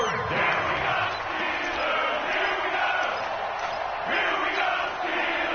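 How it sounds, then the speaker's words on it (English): A packed football stadium crowd roars steadily as a big third down approaches, with sustained loud cheering and rising waves of noise throughout and no distinct voices on top. "the crowd getting into it as we come up on a big 3rd down"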